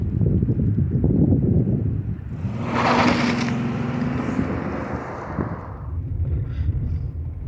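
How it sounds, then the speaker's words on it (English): A Buick with a 3.8 engine, recently fixed for a misfire, revs hard and rumbles loudly up close, and a brief rising whoosh of spinning tires comes midway before the engine noise eases off. "Spun the tires."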